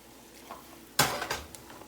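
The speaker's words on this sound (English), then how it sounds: "just stir it around like this" Utensil scraping and clattering against a pan while fried ramen noodles are stirred, a sharp clank near the middle followed by a few lighter scrapes, close and fairly quiet with no talking.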